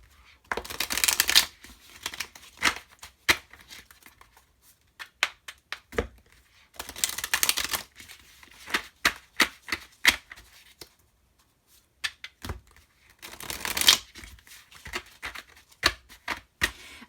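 Tarot cards being shuffled and pulled: repeated dry riffling bursts separated by short quiet gaps, with scattered crisp taps and slaps as cards are laid down, close and fairly soft, with no talking.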